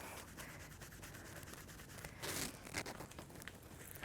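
Kinesiology tape rubbed down onto the lower back with soft, continuous friction and a brief louder scuff partway through, quiet and close with no talking.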